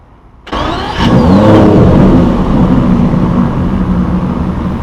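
A prototype Aston Martin DB11 with a 5.2-liter twin-turbocharged V12 fires up and roars loudly at close range, then holds a steady, throaty rumble.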